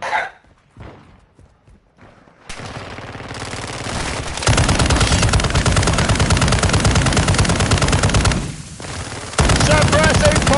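Suppressing fire in Warzone 2 DMZ bursts out after a few quiet seconds as loud, rapid machine-gun rattles, with a short pause before it resumes; a voice speaks briefly near the start.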